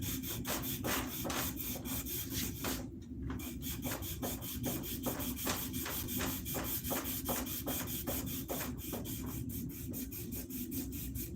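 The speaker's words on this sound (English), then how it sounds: "What I like to do is take the finger sander" A bent strip of finger sandpaper is worked over a wooden axe handle, producing rapid, evenly spaced rasping rubs at about three strokes per second, steady and close with no talking.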